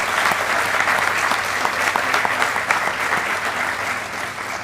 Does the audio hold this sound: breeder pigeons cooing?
no